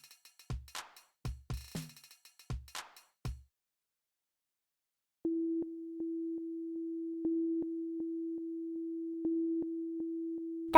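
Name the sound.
two synthesized sine waves with interference, made in Strudel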